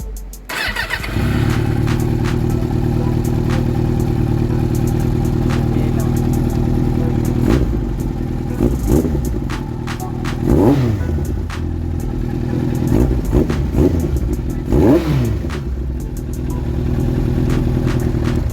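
A Yamaha R1 motorcycle with poor throttle response starts up and idles loudly nearby, then revs repeatedly in sharp rising and falling bursts over a steady engine rumble.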